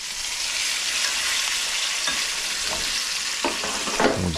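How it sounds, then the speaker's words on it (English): Pork chops hit hot oil in a pan with a loud, steady hiss of sizzling, and a few faint pops and clinks come through near the end. "I want to hear that nice sizzle when they go in."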